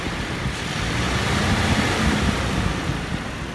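A 2016 Toyota Land Cruiser petrol engine runs steadily, a broad, even rumble with no talk over it.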